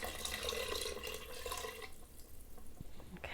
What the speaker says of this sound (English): Next, we're going to take our 2 cups of water. We're going to add that in.